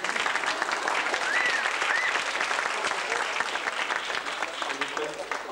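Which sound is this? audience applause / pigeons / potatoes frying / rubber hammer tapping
audience applause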